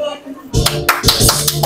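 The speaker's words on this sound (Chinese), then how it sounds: "呢啲掌声系隔篱嗰台本地人客拍嘅" Local diners at the next table in a Patong, Phuket restaurant clap after a resident singer's song, sounding close, in short irregular bursts under the room's noise, beginning abruptly after a brief quiet.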